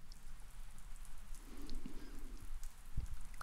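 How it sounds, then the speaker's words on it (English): Steady rain ambience patters softly and continuously, with scattered close drops and a brief louder tap near the end, alone with no voices. "Get some rain sounds."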